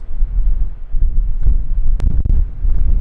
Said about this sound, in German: es ist echt ein bisschen windig hier